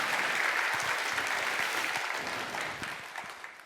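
A church congregation claps steadily, a dense patter of applause that holds strong and slowly tapers off.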